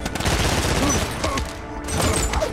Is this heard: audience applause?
no